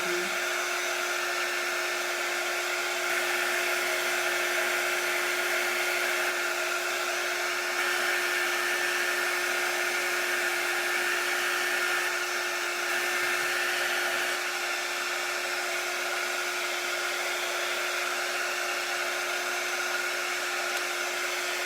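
A low-heat handheld dryer blows continuously over chalk ink, a steady close whine and rush of air that holds at an even level throughout.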